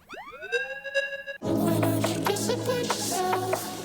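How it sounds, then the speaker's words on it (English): A bright tone from a frequency shifter sweeps rapidly upward several times in a row, then gives way to a dense, shimmering electronic wash with scattered glitchy clicks. "modulating the frequency of a frequency shifter up over and over again."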